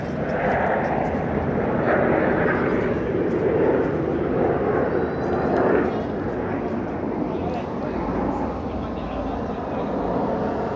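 A jet aircraft performs at the UAE National Day airshow, a broad distant roar that swells slightly and then holds steady throughout.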